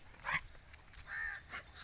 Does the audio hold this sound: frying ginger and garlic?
no